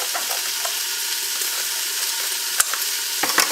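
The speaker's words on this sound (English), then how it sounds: "Let's check these onions. You can hear them sizzling." Steady crackling sizzle of onions frying in a pot, with a couple of sharp clinks from a utensil toward the end.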